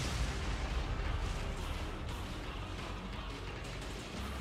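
Tank cannon fire and explosions in the Wii U game Tank! Tank! Tank! form a loud, continuous wash of booming blasts and rumble with no clear gaps between shots.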